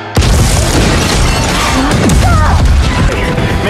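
A loud explosion rips through an aircraft under attack in the sci-fi film Atlas, a sudden heavy boom followed by a sustained roaring rumble and crashing debris for several seconds.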